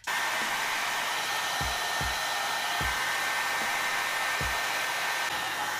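An AIMA one-step blow-dry brush runs on low heat on curly hair, a loud continuous close-up motor-and-air roar with a few low thumps as it moves.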